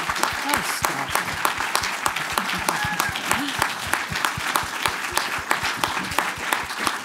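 Sustained audience applause fills a symposium hall after a keynote on health and climate, with many hands clapping steadily and a few voices speaking over it.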